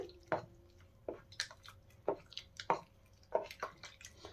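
Rice flour dough for chitui pitha is kneaded by hand with added water, giving a series of wet squishes and soft slaps at an irregular pace, close up and fairly quiet.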